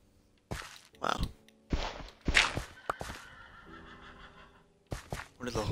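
Horse neighing in the Minecraft video game, with several short, loud whinny bursts spaced across the moment and quieter game background between them; no talking.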